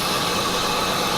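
A repaired BMW engine idles steadily up close, a brief, even mechanical hum with no talking over it.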